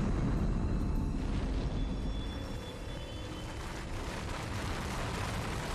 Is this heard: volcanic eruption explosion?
yes